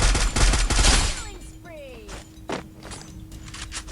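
A rapid burst of gunfire in Free Fire opens loudly, then gives way to a rising whistle and a few scattered, quieter shots.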